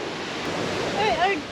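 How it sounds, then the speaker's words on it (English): Big ocean waves breaking on a sandy shore, a steady close wash of surf noise with a brief high whistling tone partway through and no clear speech. "Oh, there's big waves."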